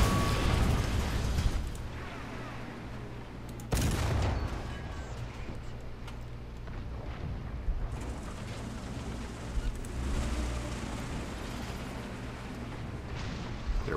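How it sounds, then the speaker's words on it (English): A tank's ammunition cooks off in War Thunder ground battle, a loud explosive burst near the four-second mark standing out over constant engine rumble and scattered distant battle noise. "Cooked his ammo off."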